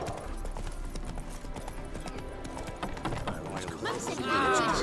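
The horse Roach gallops in The Witcher 3, with rapid rhythmic hoofbeats thudding close throughout and a brief whinny near the end, mixed with game sounds and spoken dialogue.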